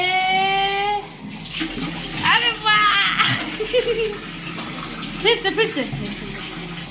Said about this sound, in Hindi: पानी डालो, पानी डालो, डालो पानी।